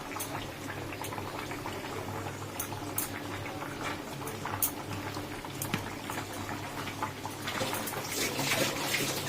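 Vegetable curry broth in a pot at a rolling boil, a steady close bubbling and gurgling with soft popping bursts that swell slightly louder toward the end, with no voices.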